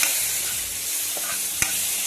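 Masala with coriander powder and a splash of water sizzles steadily in a pan for soya chana masala, a close, even frying hiss broken by a couple of sharp scrape clicks.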